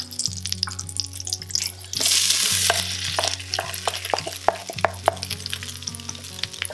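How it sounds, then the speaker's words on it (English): Cumin seeds sizzle and crackle in hot oil, close up, with a burst of louder frying around the middle and scattered sharp pops throughout. "once the jeera is kind of sizzling and slowing down"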